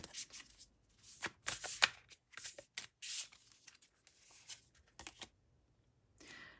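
Moon oracle cards are shuffled close up: quick papery riffles and rustling bursts that come in uneven clusters for several seconds, then a pause and one last soft shuffle, with no talking.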